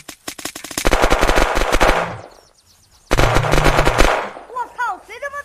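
Loud bursts of rapid automatic gunfire from the survival video game Unturned, two long volleys separated by a short pause, followed by fainter scattered shots and whooshing effects.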